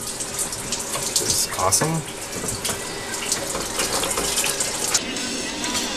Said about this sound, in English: And then we just let water flow everywhere.